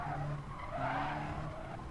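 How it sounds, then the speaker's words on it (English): Race cars spin off and skid at Interlagos in a racing video game, a steady, loud wash of engine roar and tire squeal holding throughout with no talk. "Everyone's just spinning off because he's causing the carnage and everyone's trying to avoid it."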